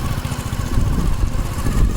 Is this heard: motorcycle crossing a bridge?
yes